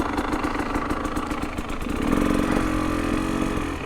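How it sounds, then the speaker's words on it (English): A KTM 300 two-stroke TPI dirt bike engine idles steadily and smoothly up close, a continuous loud putter that rises slightly in pitch partway through, with no talk. "the two-stroke engine just runs, with TPI, just runs so smooth"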